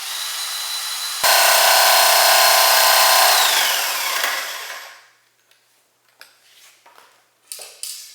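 A power drill bores a one-inch-deep hole in pallet wood, a loud steady whir lasting about three seconds that winds down and stops, followed by faint scattered knocks and clatter.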